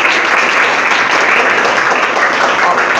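Schoolchildren in a government school classroom clap together, a steady, dense wash of applause that holds at a constant level for the whole stretch, with no talking over it.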